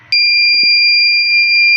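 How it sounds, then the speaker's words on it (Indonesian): An overload warning buzzer on an IoT electrical load monitor for a boarding-house room, tripped by a 3-ampere current limit, sounds one loud, steady, unbroken high-pitched tone that starts suddenly and holds. "dapat terlihat bahwa buzzer berbunyi karena batas arus yang kita ubah dari 5 menjadi 3 ampere dan inilah terjadi overload"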